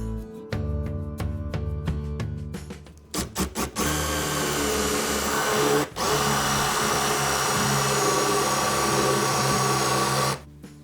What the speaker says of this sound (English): let's use a 3/4 inch Forstner bit to drill a hole on the inside edge of both